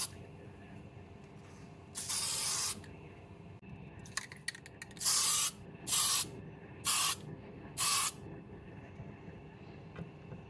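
Etch primer hisses from a spray can onto a DJH Thompson B1 model locomotive in six short, sharp bursts of varying length. Each burst is loud and close, separated by quiet pauses and a few small handling clicks.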